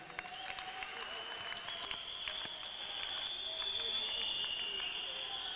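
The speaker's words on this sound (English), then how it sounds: "Now you can clap hands for yourselves" A crowd of comrades at a youth political gathering claps continuously, a dense, even wash of applause that swells slightly toward the end, with a faint steady tone running beneath it.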